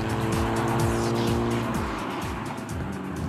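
Eagle-built Jaguar E-Type sports car driving on winding country roads, its engine droning loudly and steadily with shifting pitch as it moves, continuous throughout with no talking.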